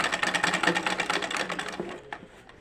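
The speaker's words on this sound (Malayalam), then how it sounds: "അങ്ങനെ തയ്ച്ചെടുക്കാം" A sewing machine runs in a tailoring lesson, its needle stitching in a fast, even rattle close to the listener, then slowing and stopping near the end with a few stray clicks.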